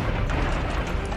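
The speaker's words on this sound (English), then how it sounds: "Big explosion!" A big explosion in the video game Kaiju-A-GoGo, a dense, loud, sustained rumbling blast filling the whole moment without speech.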